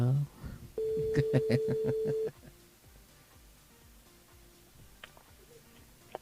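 Telephone line during a radio call-in show: a quick burst of dialing tones and then a steady ringing tone lasting about a second and a half, followed by a quiet, faintly hissing open line.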